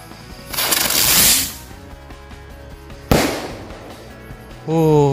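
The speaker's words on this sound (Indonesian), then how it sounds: "selanjutnya ini mercon Super Blitz. Bisa berputar seperti gangsing kemudian terbang ke atas" Super Blitz spinning firecracker going off: two loud hissing, whooshing bursts a couple of seconds apart, the second starting with a sharp crack, and a voice speaking right after.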